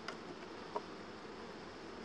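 Honeybees hum steadily around a hive with small brood cells during single-box beekeeping, a continuous close buzzing with one brief sharp click partway through.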